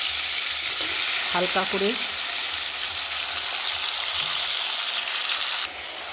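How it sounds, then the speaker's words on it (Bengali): Chicken pieces fry in hot oil for a curry of cauliflower, potato and chicken, a steady loud sizzle that fills the whole clip while a voice briefly speaks near the start. "এবারে মাংসটা ওই তেলের মধ্যে ভেজে নিচ্ছি"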